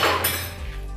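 Sandwich ingredients mixed in a bowl with a utensil, giving a brief close clatter and scrape against the bowl, short and moderately soft.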